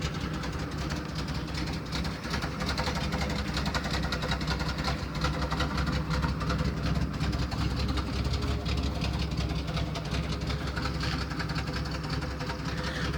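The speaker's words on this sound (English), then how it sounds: "pretty good running little truck." A 1971 Chevy C10 pickup truck engine idles steadily, a low, even rumble with a faint rhythmic knock, moderately quiet and continuous with no talking.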